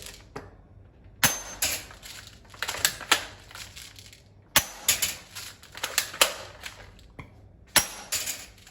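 A Cyma P48 toy AK-47 airsoft gun loaded with plastic BBs fires in short bursts of sharp, close mechanical clacks and rattles, separated by brief pauses, with no talking.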